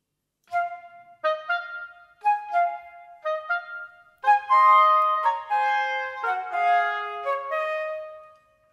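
A flute melody, clear and close, starts with short separate phrases in an arrangement of a Zelda Wind Waker theme, then a reedier oboe answers with fuller sustained notes.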